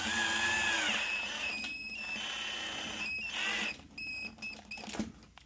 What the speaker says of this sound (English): we're just going to drill this straight in to the wood